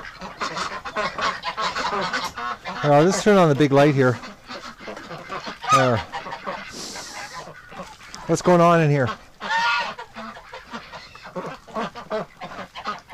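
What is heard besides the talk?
ducks and geese honking and quacking in winter lockdown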